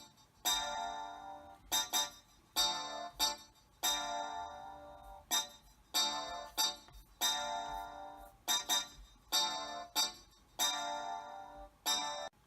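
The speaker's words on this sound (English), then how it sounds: "So once again, I used an electric piano." An electric piano from the ID8 instrument device plays a melody in short repeated phrases, clear tones with gaps between each phrase, no voice.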